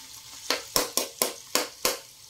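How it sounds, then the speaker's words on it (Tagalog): Pork liver sears in hot oil with six sharp, bursty sizzles at roughly regular intervals as the pieces are turned or stirred. The sizzles are close and moderately loud, and no one speaks. "i-sear natin o ating binutuin sa mantika muna itong ating atay"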